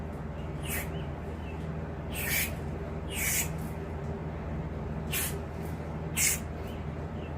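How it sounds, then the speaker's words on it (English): Brake parts cleaner sprayed into holes in a 351 Windsor engine block, five short hissing bursts at irregular intervals over a steady low background hum, fairly close. "There's some brake parts cleaner up in them holes."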